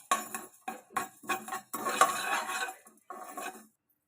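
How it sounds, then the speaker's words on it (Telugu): Fenugreek and cumin seeds dry-roasting in a pan, stirred with a utensil in bursts of rattling, scraping strokes separated by short pauses, close and fairly quiet, without talk or sizzle. "ఇవన్నీ కూడా దోరగా వేయించుకోవాలి."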